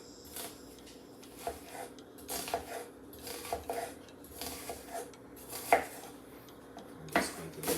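A knife works through peppers on a board while mussels and shrimp are being prepared, giving repeated sharp clacks and taps that come in irregular bursts, close and fairly clear, with no talking.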